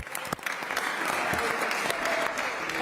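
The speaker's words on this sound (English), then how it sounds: "give security a round of applause for getting up here and helping us out real quick" A crowd at a boxing press conference applauds security, with dense, steady clapping filling the room, close and continuous, with faint voices mixed underneath.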